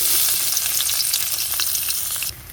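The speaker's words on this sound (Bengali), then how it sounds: "তো তেলটা গরম হয়ে গেছে, আমি এখন পেঁয়াজগুলো দিয়ে নিই।" Onions sizzle and crackle steadily in hot oil in a pan, the frying as bitter gourd karela bhaji is being cooked on a new stove; loud, close and continuous with no talking, the sizzle dropping abruptly near the end.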